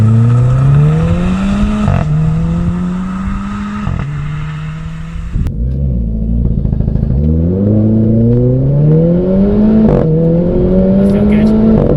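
A Renault Clio RS engine revs hard through rising gears during a 0-60 and quarter-mile test, pitch climbing then dropping at each shift, loud and close throughout.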